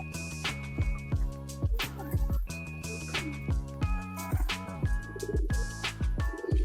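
Racing pigeons coo repeatedly in soft, rolling bursts, close by and fairly quiet, several birds overlapping in an uneven rhythm with no talk.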